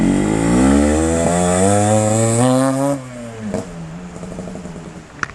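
A Yamaha RX-King motorcycle engine with a new loud racing exhaust revs high and holds, then drops back to a rough, popping idle.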